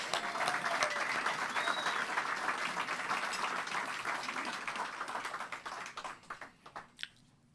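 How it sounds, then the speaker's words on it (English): An audience applauds veterans with a sustained, dense patter of clapping that fills the room at moderate level, then thins and tapers off into a few scattered claps. "Let's give them a big round of applause"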